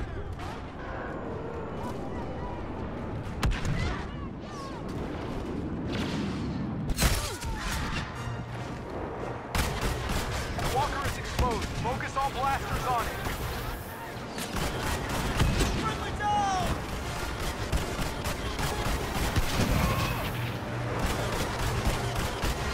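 An airstrike lands amid gunfire in a Star Wars Battlefront Walker Assault skirmish, with heavy booming blasts, rapid blaster bursts and crashing impacts piling up densely. Game voice callouts come through in places.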